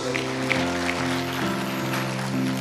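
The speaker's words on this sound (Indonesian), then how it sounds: "Tepuk tangan buat Tuhan Yesus." Church congregation clapping for Jesus, a steady spread of applause beneath sustained keyboard or organ chords that shift pitch, the clapping fairly soft against the music.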